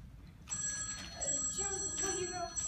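A telephone bell rings during a stage play, a bright sustained ring starting after a brief pause and continuing with slight breaks over room ambience and low stage noise.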